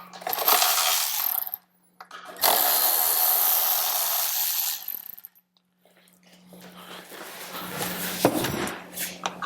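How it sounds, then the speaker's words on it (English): A wrench works bolts on a 2016 Harley-Davidson Road Glide CVO: bursts of quick metallic ratcheting clicks, close and loud, separated by short pauses, then fainter fiddling and a few clinks near the end. "I'll get a wrench for the front ones to make sure we don't damage the gauges."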